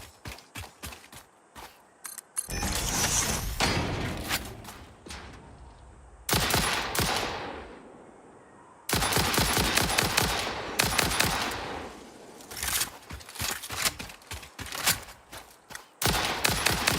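Rifle gunfire in Satisfactory rings out in rapid bursts and clusters of sharp, loud shots, interrupted by brief pauses and mechanical clicking, close and dominant with no talk.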